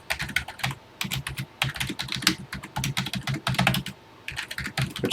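A program is typed on a TI-99 computer keyboard in quick bursts of close, crisp key clicks separated by short pauses.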